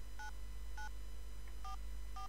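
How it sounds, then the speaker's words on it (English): In the Saya no Uta visual novel, a phone keypad plays four short dual-tone beeps in an uneven rhythm while a message is typed. The tones are faint and clean over a low background hum. "so this time I typed it into the phone."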